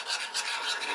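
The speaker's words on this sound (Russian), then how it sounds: "Перемешиваем." Cold porcelain clay mixture being stirred in a small batch, a steady close scraping and rubbing with rhythmic strokes, soft and continuous with no talk.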